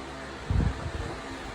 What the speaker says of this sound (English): I'm blowing it a lot because this stuff's very hot.